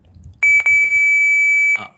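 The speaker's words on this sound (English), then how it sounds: "you're pressing it and then it is going to beep" A simulator sounds one steady, piercing electronic beep lasting over a second after a button is pressed, loud and close, with a few faint clicks just before it.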